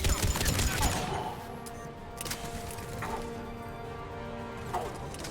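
Gunfire in the video game Mass Effect 3: a loud, dense burst of rapid shots at the start, then scattered, quieter shots and impacts continuing over a steady battle backdrop.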